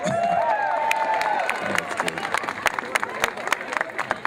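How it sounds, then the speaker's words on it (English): Rally crowd in support of Wisconsin workers and collective bargaining applauds and cheers loudly and steadily, with sharp claps and shouted voices, while an amplified voice briefly speaks over the opening. "Give her a round of applause."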